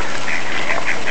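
Several ducks quacking at a park, male birds among them, a string of short nasal calls at close range over a steady outdoor background.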